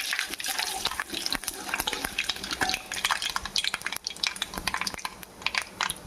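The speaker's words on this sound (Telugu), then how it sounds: "మనం ప్రమాద గింజలు, పచ్చిపప్పు, జీలకర్ర, ఆవాలు వేసేసుకుందాం." Urad dal, chana dal, cumin and mustard seeds sizzle and crackle in hot oil, giving a dense run of sharp pops and spattering close up that carries on without a break.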